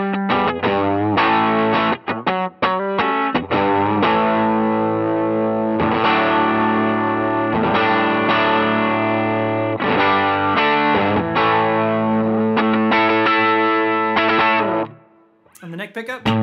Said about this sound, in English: Snapshot two really just turns on the overdrive switch.